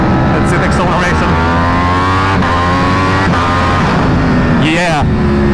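A Ducati Panigale V4 or Aprilia RSV4 sport bike accelerates hard, its engine note climbing steadily through the gears in a loud, close, continuous whine, with a brief shift or stutter near the end and wind rush throughout.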